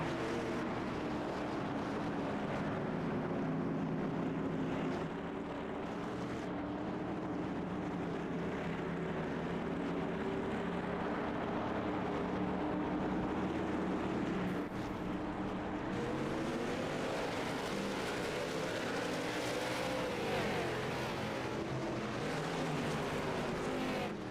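Late model stock cars race in a pack at North Wilkesboro Speedway, engines roaring steadily and loudly throughout, with rising and falling pitch as cars pass, under no talk.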